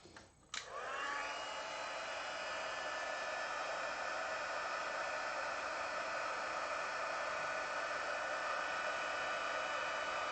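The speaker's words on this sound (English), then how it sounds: "now we'll just heat this up really quick" A heat embossing tool switches on with a click and then blows a steady, loud, even whoosh across stamped paper for the rest of the time, with no talking.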